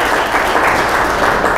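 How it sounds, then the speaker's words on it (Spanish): An audience at a swearing-in ceremony breaks into loud, continuous applause, a thick wash of many hands clapping close and steady throughout. "El aplauso para ella."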